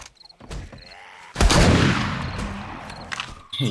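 A burst of in-game gunfire in the zombie survival game 7 Days to Die, a loud sustained volley kicking in midway and trailing off, with scattered quieter shots before it and another burst at the end.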